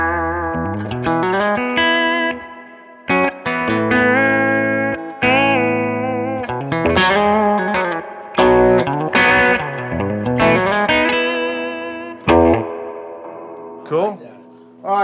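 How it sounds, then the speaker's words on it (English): Electric guitar fitted with TV Jones pickups played through a Carr Super Bee amp, ringing chords and single notes with a bright, slightly driven tone, played alone and close. "I've got a bell tone guitar here that has TV Jones pickups in it"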